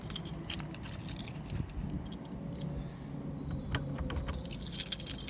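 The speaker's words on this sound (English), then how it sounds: "So I'm just opening the door keys to get something." A bunch of door keys jangles softly outside a private clinic in the UK in the early morning, with faint metallic clinks and rattles over a quiet background.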